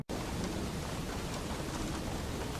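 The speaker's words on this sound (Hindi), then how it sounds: "पहाड़ों में बहुत तेज आंधी और बारिश आ गई" A heavy storm with rain lashes the mountains, a dense, steady roar of downpour and wind that is loud and unbroken throughout, with no voices.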